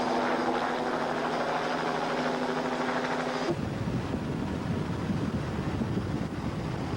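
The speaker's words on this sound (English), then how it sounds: "Our helicopter point of view camera passes by on the way up the course to catch up with the leaders" A helicopter flies past over an offshore powerboat race course at Fort Myers, Florida, giving a steady, loud rotor and engine roar with wind buffeting that changes tone abruptly halfway through.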